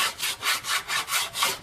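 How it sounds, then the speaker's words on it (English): Filler on a Black Horse Super Air model airplane is sanded by hand with 240 grit sandpaper, a close, rhythmic scratchy rasp of about six even back-and-forth strokes. "I'm using 240 grit sandpaper. Some of the block, just some by hand."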